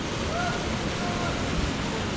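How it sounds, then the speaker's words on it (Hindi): Water from small waterfalls and a mountain stream on the trek from Sonprayag toward Kedarnath rushes in a continuous, loud broadband roar with no break. "इसी तरह वाटरफॉल का पानी जो है गिर रहा है, छोटे छोटे झरने टाइप के हैं।"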